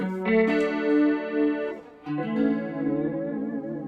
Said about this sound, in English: we're going to start with some clean Strat tones